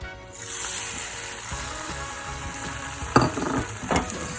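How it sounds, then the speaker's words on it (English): Egg mixture with turkey and cheese sizzles steadily in a hot pan, with a few sharp scrapes and clinks of a utensil near the end; close and fairly loud, no talking. "And now you put it in the pan, the hot pan."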